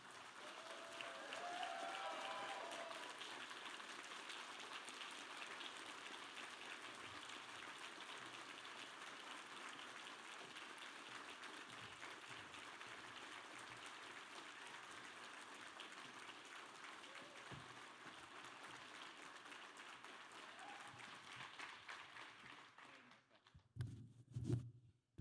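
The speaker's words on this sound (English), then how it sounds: "give an even bigger round of applause to Mr." Audience applause at the MINDS IRL 2019 event as Daryl Davis is welcomed: dense, sustained clapping from a large crowd that runs steadily for about twenty-three seconds, then fades, followed by brief closer sounds at the end.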